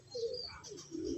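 A pet pigeon cooing on a rooftop gives a few soft, close, low coos in a short burst, with light chirpy overtones and no talk.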